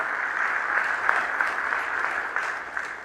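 Audience at an international economic forum in Madagascar applauding loudly, a dense, sustained wash of many hands clapping with no talk over it.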